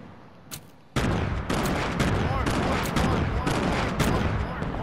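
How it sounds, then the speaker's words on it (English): Continuous video-game explosions and blasts pile up in a dense, loud barrage that starts abruptly after a quieter opening with a single pop. "Everything is blowing up."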